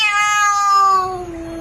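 A single cat gives one loud, close, drawn-out meow that slides downward in pitch and fades at the end, heard alone.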